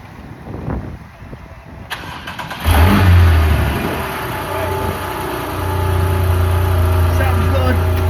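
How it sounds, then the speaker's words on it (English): A Porsche 911 cold-starts after sitting unused for a while: a click and cranking, then the engine catches with a loud flare of revs and settles into a rough, high idle, heard close by. "911 cold start."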